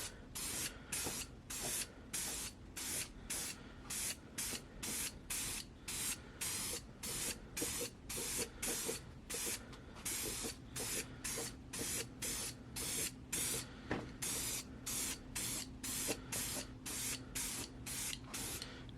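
Aerosol spray paint can hissing in rhythmic bursts while light, overlapping coats go onto a scraped carbon fiber front lip of a BMW F30, steady close spray pulses with brief gaps, no talking.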